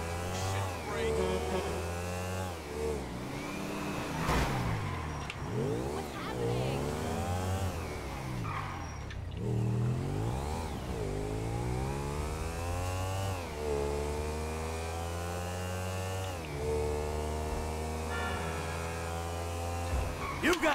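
Game motorbike engine from GTA V, set in Pakistan, held loud and close as it rises and falls through repeated gear shifts and swooping pitch changes, running continuously for about twenty seconds.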